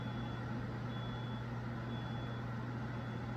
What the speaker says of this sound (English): it sounds like something is beeping